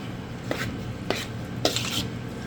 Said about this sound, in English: I'm going to add all of that to our bowl. And then just mix it all up